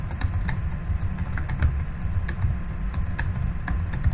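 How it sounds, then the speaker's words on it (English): Quick, irregular clicking of a computer keyboard as someone types into a document, crisp keystrokes close to the microphone with no talking. "I'm just going to type into the document"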